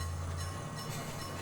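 A small train rumbles steadily around a town square, a continuous low mechanical drone with a dense rattling wash on top, loud and unbroken.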